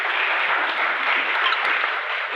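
Audience applause at a Finux and Aureus pre-launch event in Ghaziabad, a dense, steady wash of clapping that fills the whole moment without a break.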